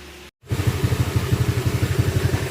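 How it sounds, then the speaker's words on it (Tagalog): A Honda ADV160 scooter engine, just repaired after a stator wiring fault that made it chirp, starts after a brief silence and settles into a steady, pulsing idle close by, with no talk. "eto na tumaandar na yung makina yung motor ni sir"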